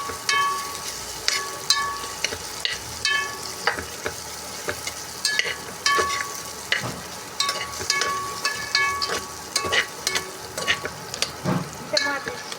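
Onions sautéing in a hot pan for sambar rice, with a steady close sizzle broken by frequent spoon stirs and scrapes against the metal throughout.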